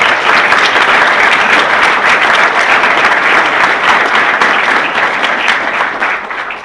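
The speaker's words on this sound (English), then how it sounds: "let's give the 40th anniversary committee a round of applause" Steady, loud applause fills the room for the 40th anniversary committee at a BAHEP program, a dense crowd clapping continuously before slowly tapering near the end.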